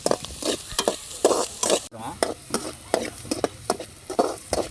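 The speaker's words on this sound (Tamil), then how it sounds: "இது லைட்டாக ப்ரௌன் ஆகிற வரைக்கும் வதக்குறோம்." Ingredients sauté in a hot pan until lightly browned, with a steady sizzle and a quick, regular series of close spoon-scraping strokes.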